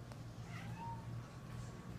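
A cat gives a faint, short meow near a household cupboard, a brief rising call over low room noise.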